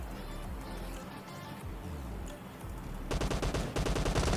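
Gunfire in the mobile battle royale game PUBG Mobile Lite starts as distant scattered shots and turns into loud rapid automatic bursts in the final second or so.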